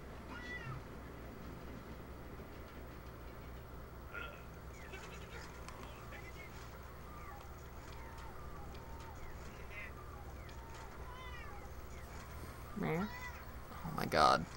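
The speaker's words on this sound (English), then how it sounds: "This cat is so good." A cat in The Urbz video game lets out a few short meows near the end, set over a busy background of game ambience and chatter.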